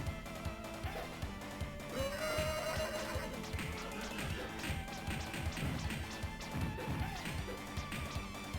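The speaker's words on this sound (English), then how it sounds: "the horse cry sounds like it's just been possessed" A horse whinnies with a distorted, drawn-out cry in TMNT: Turtles in Time, amid game music and sharp tapping and thwacking hits.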